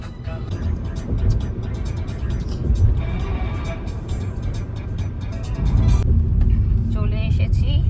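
A car drives along a road near Kolkata with a steady interior engine and road rumble throughout, growing a little louder near the end, and people talk over it.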